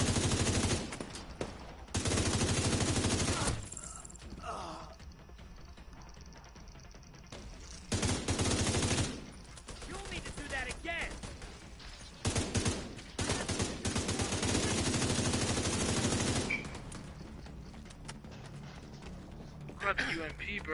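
Rapid bursts of UMP submachine gun fire in The Division 2, loud repeated volleys separated by short gaps, with people talking over and between the shots.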